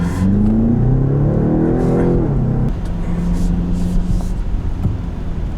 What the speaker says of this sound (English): There's a car which I should give way to.